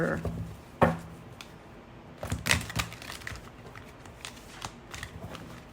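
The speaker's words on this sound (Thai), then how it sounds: "เวลาไพ่หนา ๆ มันก็จะกรีดยากนิดนึงนะคะ" A thick Angel Number tarot deck being shuffled by hand, uneven riffling and slapping bursts with quiet gaps between, close and crisp.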